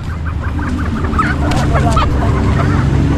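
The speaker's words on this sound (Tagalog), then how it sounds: "Etong manok na to, itong barako" Poultry calls among background murmur, a rooster crowing and squawking over a noisy outdoor pet market scene.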